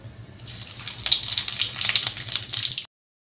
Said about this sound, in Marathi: कढई तापलेली आहे, त्याच्यामध्ये तेल टाकले आपण, त्याच्यामध्ये जिरे राई टाकू